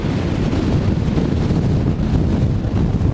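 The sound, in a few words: strong wind gale on Tibetan plateau lakeshore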